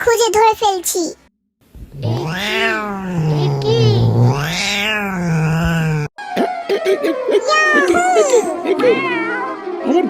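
A cartoon cat in a Bangla Islamic children's cartoon meows in long, drawn-out, wavering cries, loud and close, after a brief child-like voice and a short pause.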